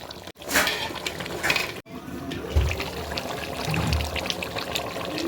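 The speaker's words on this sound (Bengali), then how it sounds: "মাংস কষাচ্ছে" Desi duck meat being sautéed in a hot pot: a steady, close crackling sizzle with soft stirring scrapes and a few low thumps, no voices.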